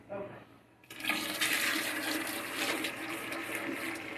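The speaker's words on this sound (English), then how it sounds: "that water tank is full. I'm going to dump it. No, I'll get it in the toilet." Dirty water from a Bissell Big Green Pet Pro carpet extractor tank is poured into a toilet and flushed, a sudden loud rushing flush that starts after a quiet moment and keeps swirling steadily nearby.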